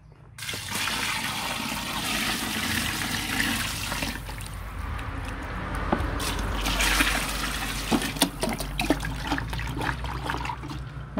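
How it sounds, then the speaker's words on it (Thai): Sugar water is poured into a compost bin of vegetable and food scraps, making a loud, continuous gush and splash of liquid that trickles and drips toward the end. "หลังจากนั้นนะคะเดี๋ยวเราก็จะเอามาเทในถังปุ๋ยหมักค่ะ"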